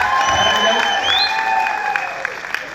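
An audience at a Tamilar Thirunal 2025 celebration in Graubünden claps for a performance by young girls, a short burst of applause heard under a speaking voice.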